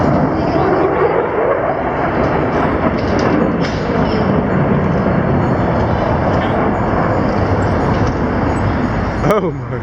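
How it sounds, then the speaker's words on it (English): F-22 Raptor jet flying over a Chicago air show, a loud continuous broadband roar filling the whole stretch, heard from the crowd with wind and background noise. "it's basically a Raptor is what the F-18 or 22 Raptor."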